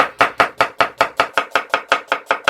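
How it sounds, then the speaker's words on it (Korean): A knife chops steadily through onion on a cutting board, cutting it into thin strips with about a dozen fast, evenly spaced strikes, loud and close with no voices. "두 번째 양파는 갈 수 있게끔 저는 그냥 채를 썰겠습니다"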